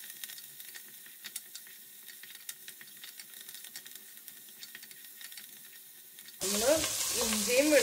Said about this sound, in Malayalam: ഇഞ്ചിയും വെളുത്തുള്ളിയും അരിയുള്ളിയും ഒരു 2 മിനിറ്റ് ലോ ഫ്ലെയിമിൽ വെച്ചിട്ട് നന്നായിട്ട് സോട്ട് ചെയ്തെടുത്തിരുന്നു